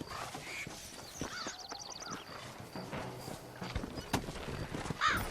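Horse hooves clip-clop at a steady walking rhythm in the PS3 western game Red Dead Redemption, close and clear amid ambient game sounds.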